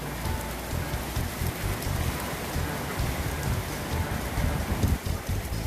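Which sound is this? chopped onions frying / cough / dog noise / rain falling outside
rain falling outside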